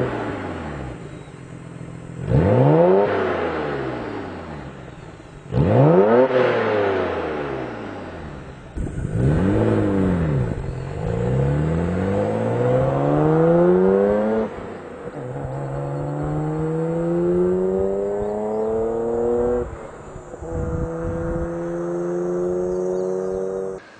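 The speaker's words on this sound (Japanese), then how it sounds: "こちらは BNR32GTR 用スーパーターボマフラーになります。" A Nissan BNR32 GT-R fitted with an HKS Super Turbo Muffler, an 85 mm main pipe rated near 600 horsepower, revs repeatedly: several sharp rising and falling blips, then longer climbing pulls and a sustained high-rpm drone, loud and close.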